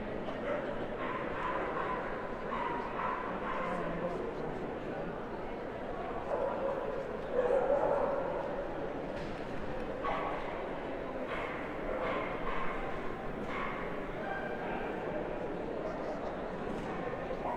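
Dogs bark and yip repeatedly in the background of a hound group dog show ring, scattered throughout alongside ongoing announcer speech and crowd noise.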